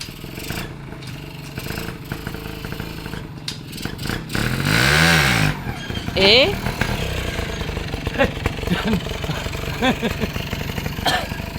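A nearby motorcycle engine idles roughly, then revs up loudly with a rising whine before settling back, amid clattering and people talking.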